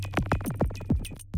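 Glitchy synth patch fed through the Molecular effect, producing a rapid stutter of pitched, swooping blips over a low sustained hum, dense and close for a short burst.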